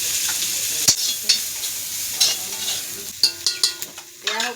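Dried fish frying in a pan, a steady sizzle with several sharp scraping stirs of a spatula, the clatter clustering toward the end.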